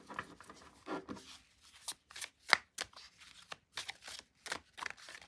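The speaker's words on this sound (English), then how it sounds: "I'm going to begin by shuffling the Departed Love Spirit Message deck here" A Departed Love Spirit Message tarot deck is shuffled close by, with irregular bursts of riffling and sliding cards separated by short pauses.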